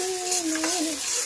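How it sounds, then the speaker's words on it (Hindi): Onions, garlic and green chillies frying in a pan make a steady hiss and sizzle, while a voice talks briefly over it. "तो उसमें मैंने लहसुन के साथ प्याज और हरी मिर्ची भी डाल दिया तो हम अच्छे से उसे भूनेंगे प्याज को भी"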